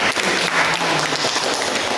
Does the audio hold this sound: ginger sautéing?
no